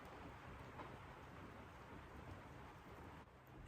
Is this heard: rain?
yes